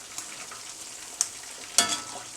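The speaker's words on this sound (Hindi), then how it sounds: "हमने चिकन को डबल फ्राई करना है" Chicken wings frying in hot oil, a soft steady crackle with a few sharp pops and one louder spitting burst near the end, close up with no talking.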